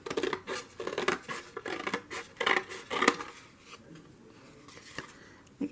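Scissors snip through paper around a tree-shaped cutout in a junk journal, a run of quick crisp cuts and scratchy paper rustles close by that thin out toward the end.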